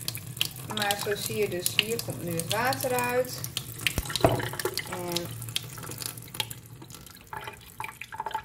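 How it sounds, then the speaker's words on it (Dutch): Water runs from a drinking water filter tap in a home kitchen, a steady splashing stream with some gurgling and sputtering, while someone talks over it in the middle and a brief clatter sounds midway. "Maar zo zie je dus, hier komt nu het water uit."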